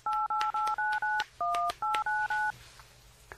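A telephone number is keyed in as a rapid run of about ten crisp DTMF dial beeps in an even rhythm, each tone a short two-note chirp, loud and clear, followed by a quiet line hiss.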